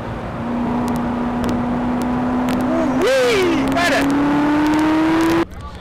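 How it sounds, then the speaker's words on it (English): A Corvette ZR1 accelerates hard, its loud engine note climbing steadily in pitch for several seconds before cutting off abruptly, with a voice briefly audible over it. "the ZR1 is taking no prisoners when the driver kicks down the gas pedal"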